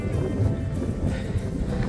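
Loud, continuous wind on a coastal trail along the ocean in Portugal buffets the microphone with a heavy low rumble, constant throughout the short clip, no voices.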